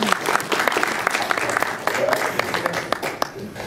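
Scattered audience clapping in a conference session at Siggraph 2012, moderately distant and uneven, sharp individual claps over a murmuring room.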